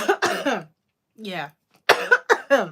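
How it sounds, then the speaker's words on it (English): A single sharp cough bursts out amid casual speech, a quick throat-clearing rasp close to the microphone, with a person talking before and after it. "That's what it provoked in me, a cough"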